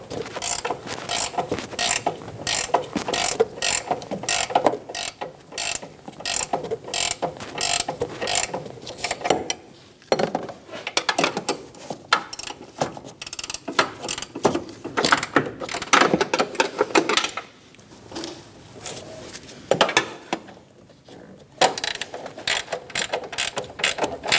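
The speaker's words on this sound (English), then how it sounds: "Using a 15mm wrench, we're going to snug down the nuts." A 15mm ratcheting wrench snugs down strut mount nuts on a 2008-2015 Scion xB, giving long runs of rapid, loud, close clicking with brief pauses between strokes.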